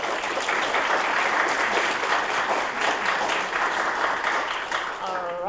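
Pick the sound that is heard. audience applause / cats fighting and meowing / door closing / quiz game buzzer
audience applause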